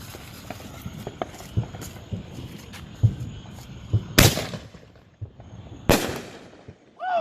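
Aerial firework mortars launched in a South Carolina backyard give two sharp, loud bangs a couple of seconds apart over a bed of scattered crackling and outdoor noise.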